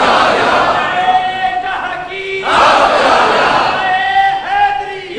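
At a Sunni conference, a large crowd chants religious slogans loudly in answer to a leader's call, two big waves of massed voices rising and falling with a shouting voice in between.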